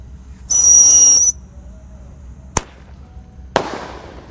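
A shrill whistle rises briefly, then two sharp bangs from a firecracker bursting low then high follow about a second apart, the second trailing off with a crackling echo.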